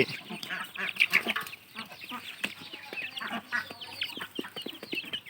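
Laying ducks and chickens, about 120 birds, quacking and clucking together in a busy farmyard chorus, overlapping calls near and farther off, with no one speaking.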